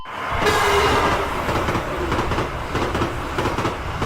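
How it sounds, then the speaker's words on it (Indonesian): A train at a railway station rumbles and clatters loudly and steadily, with wheel and carriage noise filling the whole stretch and no voices over it. "stasiun kereta"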